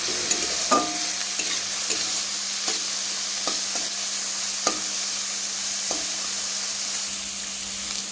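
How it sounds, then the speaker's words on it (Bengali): Beans and carrots get stirred in a hot pan for a vegetable dal, with scattered spoon scrapes and knocks over a constant soft sizzle and a low steady hum. "এখন আমি কেটে রাখা ডিমসগুলো দিয়ে দেবো ডিমসগুলো দিয়ে নাড়াচাড়া করে নেব"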